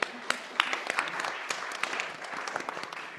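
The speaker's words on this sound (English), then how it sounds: "Let's give them a round of applause," Audience at a board candidate forum applauding the newly introduced candidates, a light, fairly sparse patter of claps from a modest crowd with a few sharper individual claps standing out.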